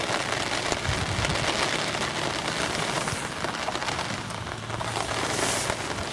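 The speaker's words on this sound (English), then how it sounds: "listen to this rain hammering down on this umbrella" Heavy rain drums loudly and constantly on an umbrella close by beside a flooded river, a dense pattering roar with no voices.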